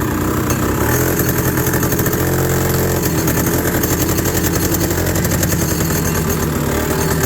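A 1968 Rokon Trailbreaker two-wheel-drive motorcycle engine runs loud and close while being ridden, a steady buzzing drone with a rapid rhythmic throb that holds for the whole stretch, no talk over it.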